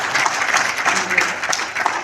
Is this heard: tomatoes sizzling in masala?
no